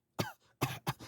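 A man coughs three times in quick succession during a prison strip search, short sharp close bursts in an otherwise quiet space.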